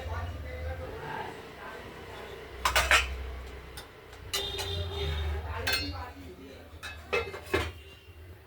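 A metal lid clanks onto a pot of pabda fish curry with potato and tomato, several sharp close knocks and clinks against a low hum of the cooking setup, with a voice speaking briefly.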